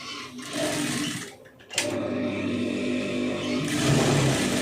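A sewing machine stitches piping onto a lined blouse, giving a close, continuous mechanical whir that dips briefly and then resumes at a steady pace until the end, with no voices.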